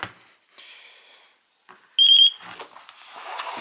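Taranis radio transmitter for a Parrot Disco drone entering bind mode: a short, clear high-pitched electronic beep tone amid faint handling clicks in a quiet room.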